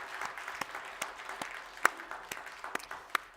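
A church congregation applauds an ocarina player after a Sunday service interlude, a soft, sparse patter of hand claps with a few sharper individual claps, moderately distant.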